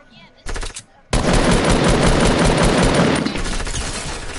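Gunfire aimed at the player in the video game Fortnite comes as a short burst, a brief pause, then loud sustained machine-gun fire that rattles on for several seconds before easing slightly.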